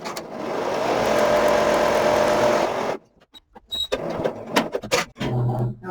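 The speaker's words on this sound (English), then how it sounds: "Now it's going to go ahead and do the tack down stitch, which is going to cover this edge and sew the bear" An embroidery machine stitches a felt Christmas bear gift tag with a fast steady mechanical whir for about three seconds, then stops, leaving small clicks and handling noises.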